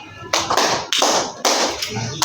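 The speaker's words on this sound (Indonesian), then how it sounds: "Kalau misalnya tepuk malam, tepuk sore, kalian tepuknya 3 kali." A school class claps a rhythm pattern together during a practice teaching lesson. Sharp, loud bursts of group clapping start abruptly and are separated by short gaps, giving an uneven stop-start rhythm heard up close.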